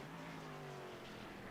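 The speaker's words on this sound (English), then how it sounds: "Locks up a brake." A stock car in a racing video game at Circuit Zolder locks up its brakes into a chicane. A loud, continuous engine roar fills the moment, with a faint tire squeal folded into the noise.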